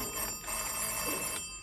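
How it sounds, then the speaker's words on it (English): A telephone rings in a vintage radio comedy broadcast, a short burst of bright electric bell trills heard alone with no talking over it. "What's that? Oh, the phone."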